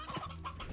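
Slime Rancher hens and roosters cluck in a short close burst of bird calls, clear and alone without talk.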